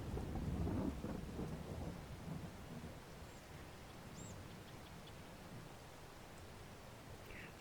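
Rain and thunder in the Farming Simulator 22 video game: a deep thunder rumble rolls out at the start, then steady hissing rain carries on alone at moderate volume.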